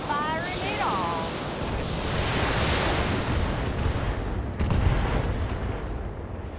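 Mech weapons fire in BattleTech: a dense, sustained roar of blasts and rumbling explosions that swells and carries on for several seconds, loud and continuous, with a brief chirping tone near the start.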